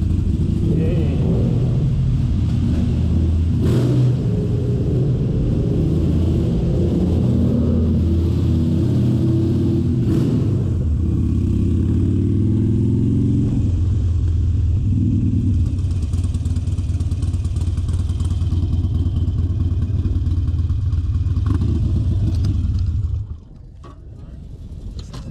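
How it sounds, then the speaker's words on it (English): Harley-Davidson motorcycle engine idling and running steadily at a track, a deep continuous rumble with occasional clattering knocks, close and loud for over twenty seconds before cutting off abruptly. "Harleys, gotta love them."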